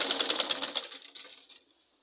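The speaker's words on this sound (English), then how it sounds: "And continue sewing the half inches." A sewing machine stitches Ankara fabric in a quick, even mechanical chatter that runs close and steady for about a second, then slows and fades to silence.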